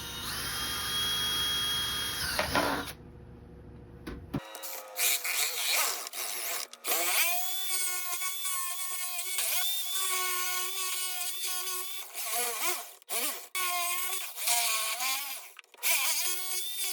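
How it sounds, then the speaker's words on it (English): A drill bores a starter hole, then a jigsaw cuts through a plastic planter cover, loud and close with a steady high motorized whine broken by short stops and restarts. "using a drill to make a starter hole for my jigsaw blade, and then using the jigsaw to complete the cut"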